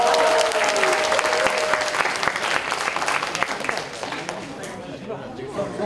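An audience at a graduates' talk concert applauds loudly from the start, then the clapping thins and tapers off, with some murmuring and a brief spoken voice near the start.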